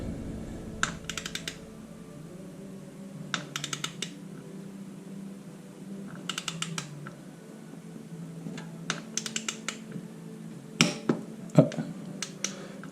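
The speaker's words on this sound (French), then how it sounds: "Jusqu'à temps que le torque wrench nous dise que c'est assez." A torque wrench clicks in short bursts of rapid clicks at intervals while a car's oil-change fasteners are tightened in a quiet garage.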